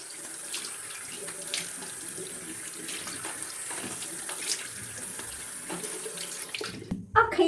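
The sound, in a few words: running water from a tap while washing the face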